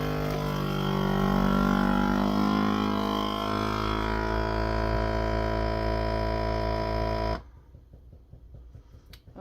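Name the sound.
vacuum sealer pumping out air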